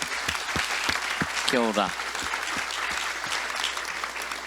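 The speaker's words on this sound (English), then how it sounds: "Just a big round of applause for the Creative HQ team anō e te whānau" Summit audience applauds in a dense, steady wash of clapping that runs throughout, while a voice briefly speaks over it.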